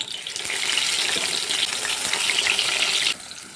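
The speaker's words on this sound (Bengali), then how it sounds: "তেলটা গরম হয়ে গেছে এখন আমি বেগুনের পিস একটা একটা করে তেলের মধ্যে ছেড়ে দেবো" Eggplant pieces fry in hot mustard oil with a loud, steady sizzle and crackle that runs continuously before dropping off abruptly near the end.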